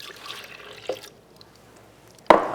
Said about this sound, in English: we're gonna pour the milk in.